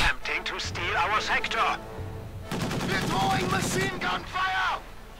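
Automatic fire from an MG-42 machine gun in a World War II strategy game, bursts of loud gunshots and battle noise layered under continuous commentary.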